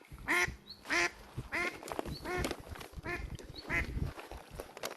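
Ducks quacking nearby outdoors in Austria, a series of loud, repeated nasal quacks in uneven bursts, one after another over a low background of ambient noise.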